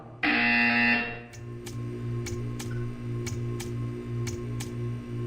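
A loud, harsh electronic buzzer from the video game Portal 2 sounds alone for about a second, then cuts off, leaving a low steady hum with a series of faint regular ticks.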